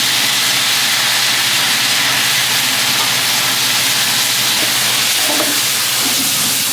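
Lomo saltado is cooked over open flame in a restaurant kitchen in Barranco, Lima. A loud, continuous hissing sizzle and roar fills the whole stretch, with faint clatter underneath.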